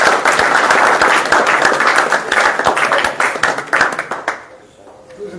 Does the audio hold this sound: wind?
no